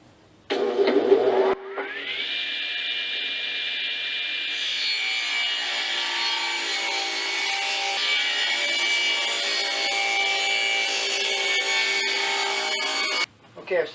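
A table saw spins up with a rising whine, then cuts wood pieces for an ant farm in one sustained, loud, close cut before the blade stops.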